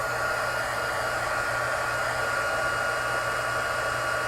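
A hair dryer blows steadily on wet paper for a handmade card, a constant close whooshing hum with a low motor drone and no pauses, heard alone.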